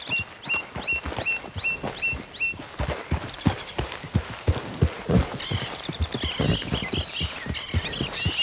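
Steady clip-clopping horse hooves trot along at an even pace in Red Dead Redemption 2, with chirping birds in the background during the first few seconds.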